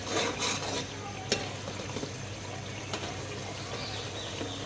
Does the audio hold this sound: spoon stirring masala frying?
yes